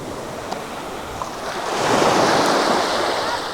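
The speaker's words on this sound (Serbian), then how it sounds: "Zlatni pesak i Tirkizno more." Sea waves washing onto a sandy beach on Kefalonia, a steady hiss that swells as a wave breaks and rushes in, with wind buffeting the microphone.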